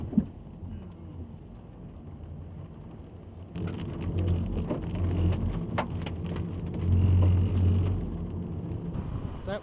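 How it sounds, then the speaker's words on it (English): Steady rain patters on a surface during an Australian thunderstorm, intensifying partway through, with low rumbling that may be distant thunder. "That was the storm that we just ran through."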